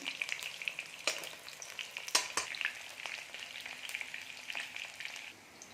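Stuffed bitter gourds fry in a pan for a Punjabi-style dish, giving a steady crackling sizzle close by with occasional louder pops and clinks as they are stirred.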